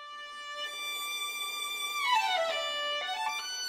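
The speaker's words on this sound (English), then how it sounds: "Let's compare the violin one with the violin two section now." A second violin section from the Abbey Road Two strings sample library holds a bright sustained note, then slides into a quick descending and rising run of notes, played cleanly with no talking.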